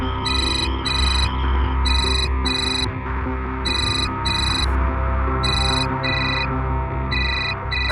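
A phone rings insistently, repeated pairs of bright electronic trill bursts over a steady hum of background music, loud and continuous throughout.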